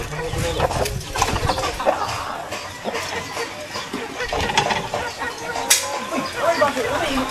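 Chickens cluck and squawk in a busy, continuous jumble during feeding, with scattered sharper calls over a low rumble of background noise.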